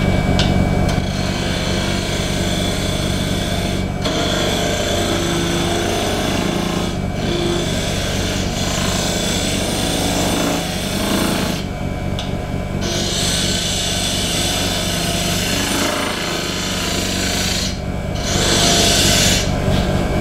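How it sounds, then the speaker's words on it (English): A woodturning lathe running at 1800 rpm while turning an off-center tea light holder, its steady motor hum under continuous loud rasping and scraping of the tool against spinning wood, with brief pauses in the cutting. "I'm going to turn the lathe speed back up to 1800"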